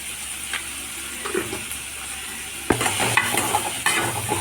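Sliced onions with a pinch of salt sauté in hot oil, sizzling steadily while a spoon scrapes and stirs through them in repeated close, clattering strokes that grow busier toward the end, with no voices.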